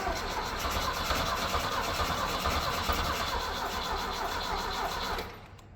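A Mustang skid loader engine cranks over on a jump pack with a loud, steady, rhythmic churning that runs for about five seconds, then stops abruptly without catching.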